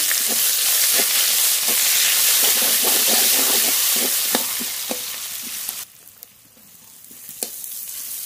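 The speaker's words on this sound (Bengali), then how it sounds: "এবার পেঁয়াজ কুচি দেব" Chopped onion hitting hot oil with whole cumin seeds in a village kitchen, a steady broadband sizzle with stirring clicks and scrapes, near and loud, dropping to a quieter simmer partway through with occasional spoon taps.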